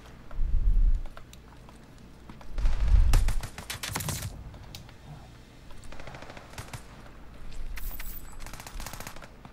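A BAR rifle fires in Call of Duty Vanguard, with bursts of automatic gunfire, heavy booming impacts and clicking mechanical sounds spread unevenly across the span.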